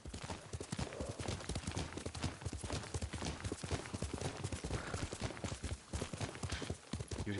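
Rapid, steady clip-clop of horse hooves at a gallop in the video game Ghost of Tsushima, loud and close, continuing throughout with no talking.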